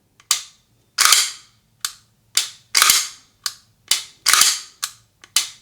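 Sharp mechanical clicks and snaps from a SIG P320 X5 Legion pistol during a function check, about ten crisp, close metallic impacts spaced irregularly, each loud and alone with nothing else between them.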